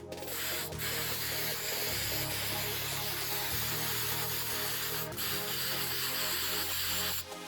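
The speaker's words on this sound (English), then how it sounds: "give this a nice shake and let's spray it on" A steady hiss of spray from an aerosol can of Gorilla Glue spray adhesive runs almost without a break, with a faint rubbing hum underneath.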